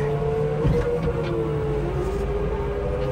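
A farm loader's engine drones steadily at high revs during silage work, a loud, continuous mechanical roar with a sustained tonal whine and no talking.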